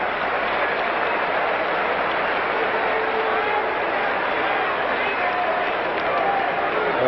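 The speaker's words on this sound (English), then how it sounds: "Byers is up and gets a hand from the crowd" A stadium crowd at a 49ers versus Rams football game gives a player a hand, producing dense, steady, broadband applause that holds throughout, with a voice talking faintly beneath it.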